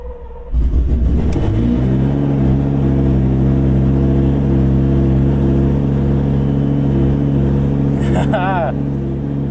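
A rebuilt Lamborghini Gallardo Superleggera engine cranks briefly, catches and settles into a loud, close, steady idle with a slight rise in revs, a voice speaking briefly near the end.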